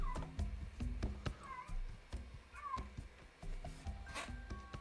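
A pet cat meows repeatedly at close range, with several drawn-out, wavering cries spread across the moment.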